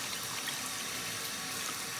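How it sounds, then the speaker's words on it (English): Warm water is poured into a salt bowl for bagel dough, making a brief, steady, close rushing flow with no talk. "Get 1 1/3 cup of water and put that in your salt bowl."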